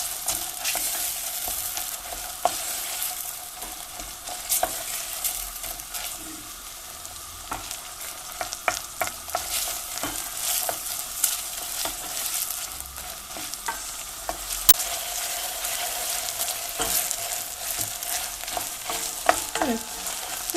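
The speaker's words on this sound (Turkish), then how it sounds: "biber ve domates salçasında ilave ederek salçamızın kokusunu çıkartana dek kıvırma işlemimizi yapacağız." Meat sizzles in a pan with pepper and tomato paste for a Turkish meat and bean stew, a steady frying hiss broken by frequent clinks and scrapes of stirring.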